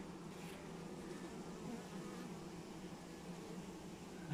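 Honeybees buzz at an open hive during a late-September colony inspection and treatment, a faint, continuous low hum that runs steadily through the clip, with no talk over it.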